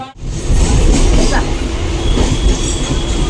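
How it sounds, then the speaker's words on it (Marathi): A Mumbai local commuter train running at speed, a loud, steady rumble and rattle of wheels on rails heard from inside the carriage after a brief quieter start, with voices mixed into the noise. "पुणेकरचा ट्रॅव्हलिंग इन मुंबई लोकल"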